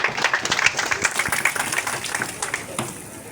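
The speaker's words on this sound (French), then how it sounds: "Si nous pouvons l'applaudir très fort." Audience applause at an official ceremony launching the EXETAT 2025 exam session in South Kivu, a steady patter of many hands clapping for a few seconds with some voices mixed in.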